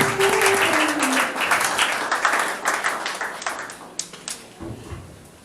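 Church congregation applauding and clapping at a worship service, a dense, loud wash of hands that starts strong and gradually thins and fades, with a few sharper claps standing out near the end.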